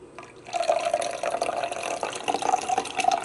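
Fresh celery, beet and apple juice pours steadily into a jar with a close, continuous liquid trickle and gurgle that rises slightly as the jar fills, with no one talking.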